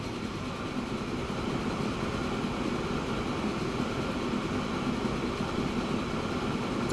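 Steam train number 4472 running in the Transport Fever game, a steady continuous rumble and rolling roar that holds level and close for the whole stretch, with no talk over it.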